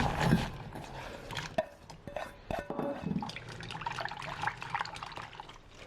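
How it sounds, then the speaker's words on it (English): Chopped, salted onions get rinsed in cold water and drained, bringing steady splashing and trickling with small clinks and knocks nearby. The sound runs continuously and stays fairly loud, with no voices. "Rinse in cold water and drain."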